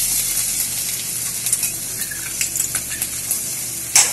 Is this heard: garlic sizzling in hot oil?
yes